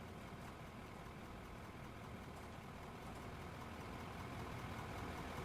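A truck engine idles in a mining video game, a steady low rumble holding at an even, moderate level throughout with no breaks or revving.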